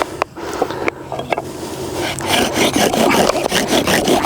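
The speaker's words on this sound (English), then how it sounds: "the bow just means we're using a bow with a string on it to spin the drill bit" A bow drill spins a wooden drill bit against a fireboard to make fire, giving a close, rhythmic rasping and rubbing that starts hesitantly with short strokes, then settles into steady, loud back-and-forth friction.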